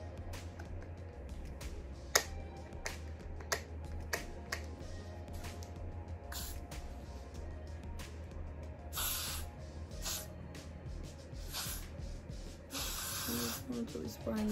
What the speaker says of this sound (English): I'm really spraying this all around.